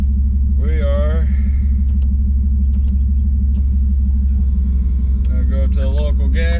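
A car cruises on a test drive after repairs, with a loud, steady low engine and road rumble inside the cabin and a voice speaking briefly over it.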